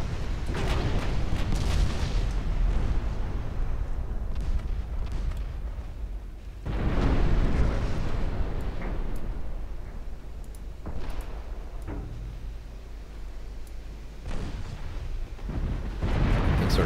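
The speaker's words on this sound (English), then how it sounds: "The 7-inch guns are racking up the damage." Heavy 7-inch naval guns fire in Ultimate Admiral Dreadnoughts, a loud rumbling barrage of booming shots with sustained low roar and repeated blasts, no voices over it.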